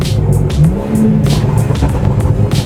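Exhaust burble from a BMW F30 340i running a Bootmod3 stage 2 tune, heard from inside the car as a loud, steady rumbling drone with scattered crackles and pops over a couple of seconds.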